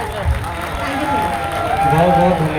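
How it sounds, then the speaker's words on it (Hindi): At a Hindi poetry recital, an audience welcomes a poet with a burst of loud, continuous applause, dense and close, with a voice talking over the clapping. "वो आए और जोरदार तालियां"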